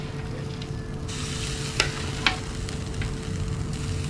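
Food sizzling steadily in a pan during a sauté, a constant close hiss broken by a couple of sharp clicks and scrapes of a utensil.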